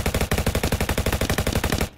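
Rapid automatic gunfire in a Roblox Call of Duty-style shooter game: a dense, evenly spaced burst of loud shots lasting about two seconds, close and alone, with no talking.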